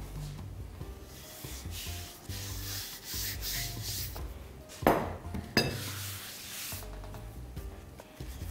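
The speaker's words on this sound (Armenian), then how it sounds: "Օգնության է գալիս գրտնակը։" A rolling pin rolls out dough for a pie, giving close, continuous rubbing and scraping strokes in a kitchen with a couple of sharper knocks midway, and no one talking.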